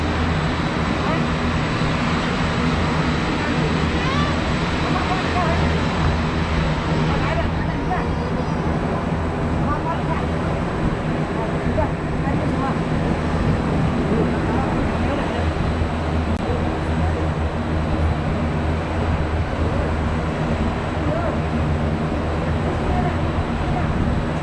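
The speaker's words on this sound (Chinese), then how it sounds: "你看飞机来了" An airplane passes at Songshan Airport in Taipei, a loud sustained engine roar that holds steady throughout, with voices talking excitedly underneath.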